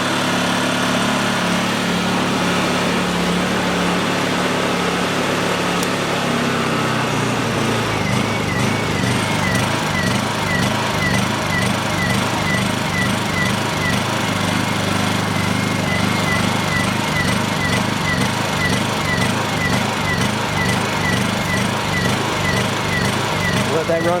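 A Honda EU2000i portable inverter generator, suspected of bad gas, settles into running just after starting with the choke off: a close, steady, high-revving light engine drone with a rapid pulsing rhythm, loud and continuous.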